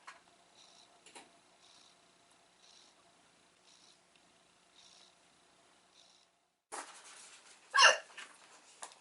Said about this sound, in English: I love having the hiccups.